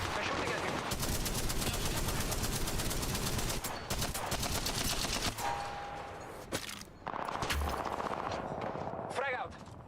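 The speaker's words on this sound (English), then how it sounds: "They're shooting at me." Rapid automatic gunfire from Apex Legends rakes toward the player in dense, near-continuous bursts, thinning out briefly before resuming, with other game effects mixed in.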